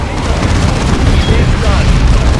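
Cannon fire and explosions in the Dawn of War II video game form a dense, continuous roar of loud booms and rumbling blasts, with battle voices mixed into the din.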